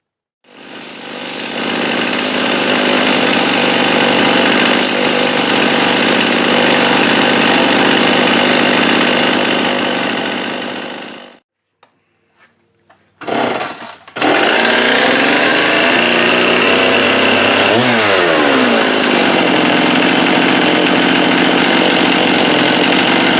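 A Jonsereds 70e chainsaw with a rich-running Walbro carburetor roars loudly and steadily, cuts out into near silence with a brief sputter, then restarts and runs hard again with a short rise and fall in pitch.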